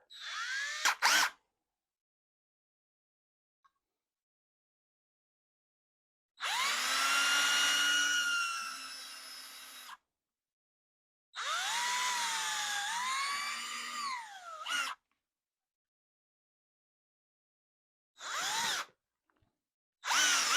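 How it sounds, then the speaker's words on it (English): Power drill whining while drilling a pilot hole, in several separate bursts, two long runs of a few seconds each plus short blips, loud and close with silence between. "So you've got some kind of a pilot hole to drill the bigger hole with."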